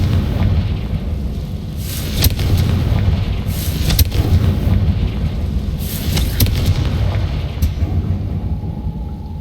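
Fiery Confringo spell blasts in Hogwarts Legacy go off as a series of loud booming explosions over a steady rumbling background, with several distinct bursts spaced a couple of seconds apart.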